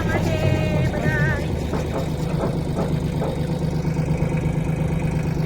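A tractor engine idles nearby with a steady low rumble, while voices talk and call out over it.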